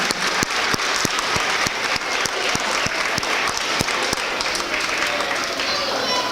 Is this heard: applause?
yes